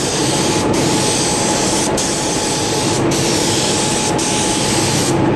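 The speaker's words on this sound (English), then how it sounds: "This is the last of my primer, so I gotta make it a good one." Spray primer hissing from an aerosol can onto a model tailfin, a steady loud close hiss running without a break.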